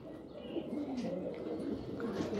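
Pigeons on a rooftop loft coo softly and repeatedly, a low murmuring call set against faint background noise with a few higher chirps.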